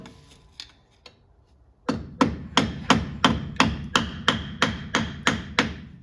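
Hammer striking a screwdriver to pry off a 700R4 transmission governor cover, a dozen sharp metallic taps in steady rhythm after a few lighter knocks, close and alone.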